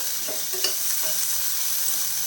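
Onions sautéing in a pan over a low flame, a steady soft sizzle with a few faint stirring touches.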